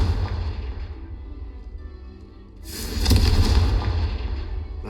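A Confringo fire spell from the video game Hogwarts Legacy blasts out partway through, a sudden loud, booming burst that rolls on after an earlier stretch of low rumbling ambience.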